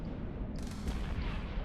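Ship weapons firing in EVE Online, a short run of muffled booming shots with a brighter burst midway, heavy low-end thumps layered over a steady space-combat drone.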